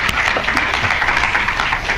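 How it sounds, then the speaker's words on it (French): An audience at a Halloween horror short-film screening claps loudly for a filmmaker called to the stage, a dense, continuous burst of applause throughout. "Vous pouvez applaudir."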